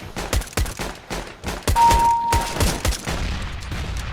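Gunfire in CS:GO, a rapid series of sharp, loud rifle shots in uneven bursts, close and punchy, with a brief whistling tone in the middle.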